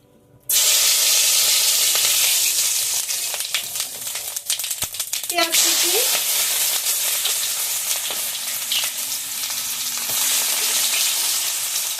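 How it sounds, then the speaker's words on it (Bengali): Cumin seeds dropped into hot oil in a wok burst into a loud, bright sizzle that starts abruptly and then crackles and spits continuously, with occasional clinks of stirring. "তেলটা গরম হয়ে গেছে এখন আমি তেলের মধ্যে জিরেটা ফোড়ন দিয়ে দেব"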